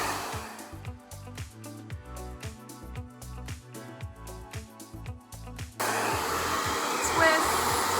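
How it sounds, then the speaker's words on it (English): A blow dryer on high heat and high power roars steadily, close by, its hum interrupted rhythmically by a brush before turning into a louder, continuous rushing blast. "my blow dryer is on high heat"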